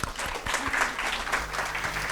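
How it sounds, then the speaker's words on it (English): Audience applause at a university program, a steady burst of many hands clapping close by that fills the whole stretch without talk. "Big clap for ma'am."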